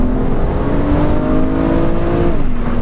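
A 2009 BMW Z4 30i E89 roadster pulls hard after a downshift, its engine note rising steadily and loud for a few seconds and then easing off as the revs drop, with no talking.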